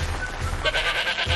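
A voice imitates a goat's bleat in a Japanese comedy drama, a short wavering, pulsing cry lasting under a second, close and fairly loud, alone without talk.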